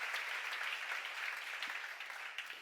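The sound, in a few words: congregation applause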